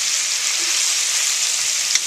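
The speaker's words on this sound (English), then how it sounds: "listen to that sizzle, guys" Food sizzling steadily in a hot pan, a continuous bright crackling hiss with a small pop near the end.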